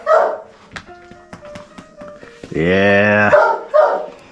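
Dogs at a home dog boarding business bark and yip in short bursts, close and loud, ending in a sustained whine or howl, with a person speaking briefly at the start.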